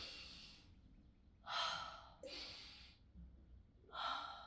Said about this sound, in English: The very first one was like a chest inhale, right? You're breathing into your chest like that.